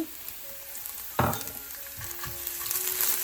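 Chopped onion and ginger-garlic paste fry in hot oil for a shingara filling, a steady close sizzle with a sharp burst as ingredients hit the pan, then continued crackling with light stirring.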